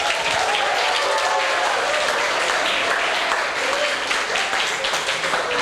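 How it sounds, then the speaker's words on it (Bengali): Loud, sustained applause from a college youth audience, a thick wash of many hands clapping continuously for several seconds, with scattered voices mixed into the roar. "একবার জোরে হাততালি হয়ে যাক"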